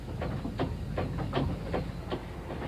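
Train running on a railway line through Wales, a steady rumble with a regular clickety-clack of wheels over rail joints at a moderate pace, heard from on board at a fairly quiet level.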